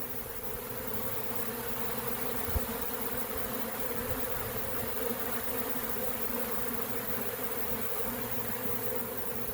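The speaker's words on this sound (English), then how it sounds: "this is what a swarm looks like while it's happening." A honeybee swarm buzzes around a peach tree, a dense, steady drone of countless wings that fills the air evenly and continuously with no voices.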